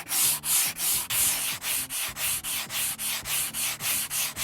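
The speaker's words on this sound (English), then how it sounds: "And I'm sanding with the grain only here, and I'm actually rocking it as I go along like this" Sandpaper rubs by hand along the grain of a varnish-stripped wooden surface being prepped for new coats, making a steady rhythm of about a dozen close, even scratchy strokes with brief gaps between them.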